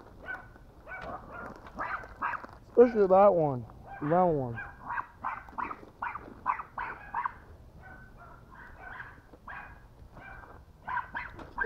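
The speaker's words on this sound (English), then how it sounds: "My neighbor's dogs constantly bark over and over and over again." A neighbor's dogs bark in a few short bursts of yelping, howl-like calls, with a person talking over and between them.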